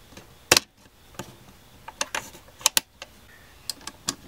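Screws are run in on a Magpul M-lok foregrip mount on a rifle handguard, giving scattered sharp clicks and small metallic ticks at irregular intervals, close up with quiet pauses between them.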